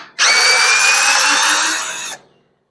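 A cheap, light-duty electric drill spins up and runs at steady high speed for about two seconds, loud and close with a whining motor tone, then winds down and stops.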